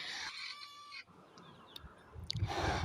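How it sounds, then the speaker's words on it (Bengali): Desi hens cluck and call briefly as they gather to feed, a short burst of close bird sounds followed by rustling and shuffling movement. "যখন দেখে একটা মুরগি আসছে খাবার খাচ্ছে তো বাকি ওরা কি করে ওরা উড়াল দিয়ে এখানে চলে আসে"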